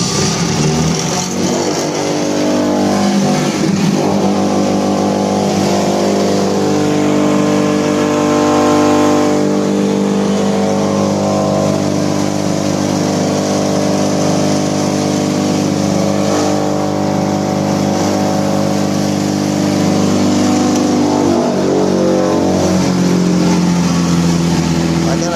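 An Ariol 6.5 kW electric motor rated at 3,500 rpm runs with a steady, loud, close droning hum that holds unchanged throughout, with a voice talking over it.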